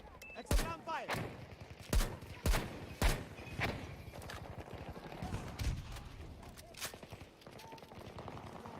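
Gunfire in Battlefield 2042: a series of sharp, loud shots spaced roughly half a second to a second apart, followed by scattered further reports and clattering action noise.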